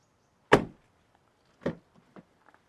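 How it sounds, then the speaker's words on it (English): Door of a JAC T9 2.0L diesel 4x4 pickup truck shuts with a single solid thud, followed a second later by a softer second closing and a few faint clicks, quiet setting. "Door shut with a very nice stud."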